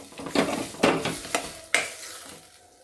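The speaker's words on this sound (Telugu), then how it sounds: "మటన్ వేస్తున్నాను దీంట్లోకి. కొంచెం ఫ్రై లాగా చేస్తున్నానండి." Half a kilo of washed mutton sizzles with tomatoes in a pan while a spoon stirs it, several sharp scraping strokes rising over a steady frying hiss, close by and with no one talking.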